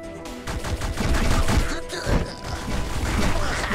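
Rapid gunfire bursts from a twin-stick shooter base-builder game, Sleep Tight, crackling densely and loudly with impact crashes mixed in, continuous for several seconds with no talk.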